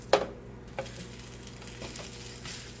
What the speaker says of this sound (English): When all the pancakes have bubbles everywhere, all the way around to the edges as well, then you know it's time to flip.